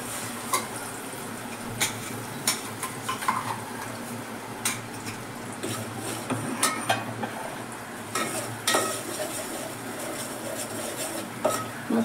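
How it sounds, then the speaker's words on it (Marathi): Masala spice being added and stirred into finely cooked tomatoes in a pan over low heat: steady soft sizzle under repeated sharp scrapes and clinks of a utensil against the pan. "यात आपण मसाला टाकून देऊया."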